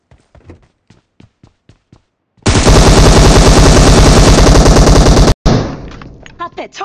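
Sustained loud automatic gunfire in the mobile game PUBG, a rapid continuous burst of about three seconds with a brief cutoff, preceded by quiet footstep-like taps and followed by scattered shots and movement.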